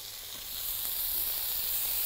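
Floured chicken sears on high heat in a dry cast iron pan with no oil, a dense, even hiss that swells slightly after the first half-second and holds steady, close and alone.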